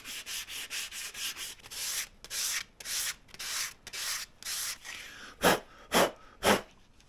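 Repeated strokes of sandpaper rubbing along a diamond willow walking stick, a steady rhythm of about a dozen close scratchy passes that turn louder and more spaced near the end, with no talking.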